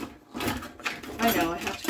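A cluttered kitchen drawer is rummaged through while cooking, with utensils clattering and scraping in short irregular bursts under a person's voice.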